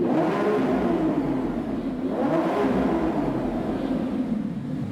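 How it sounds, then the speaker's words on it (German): A Lamborghini Revuelto held at full throttle: a loud, steady engine roar that swells and dips in pitch over a few seconds, heard from inside the car with no talking. "Ich bin voll auf dem Gas."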